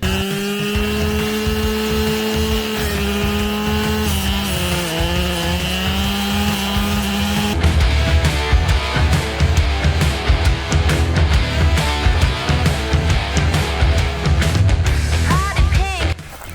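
A Holzfforma petrol brush cutter revs loudly and steadily, then bites into bushes with rough, fluctuating rasping and crackling for the rest of the clip.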